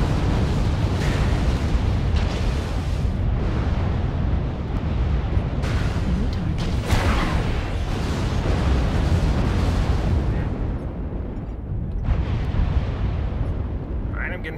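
Missile volleys launch and burst in MechWarrior Online, fired from an Atlas mech loaded with long-range missiles and PPCs; a dense, continuous roar of rumbling explosions and whooshes rolls on almost without pause, with a voice speaking over it.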